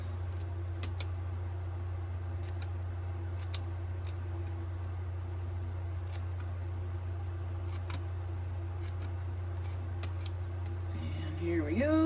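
Scissors snip through paper insets for a mixed media canvas, a series of short, crisp cuts scattered irregularly over a steady low electrical hum, close by, with some handling rustle near the end.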